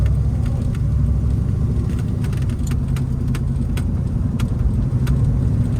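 A 1972 Plymouth Roadrunner cruising on the road, its engine giving a steady low rumble under continuous road and tire noise with no talking.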